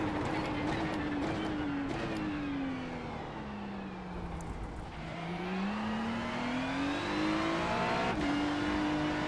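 Ferrari 296 race car engine in the iRacing sim at New Zandvoort, a steady loud engine note rising and falling through the gears, with a brief dip and shift around the middle before climbing again; no talk.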